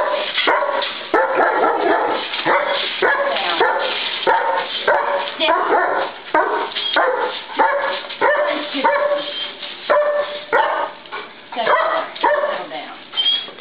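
Several dogs bark and yip repeatedly in quick, overlapping bursts close by, with a person talking over the barking.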